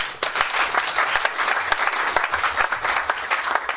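A church congregation applauds during an evening service, a dense, steady wash of many hands clapping throughout, filling the room at a fairly close distance.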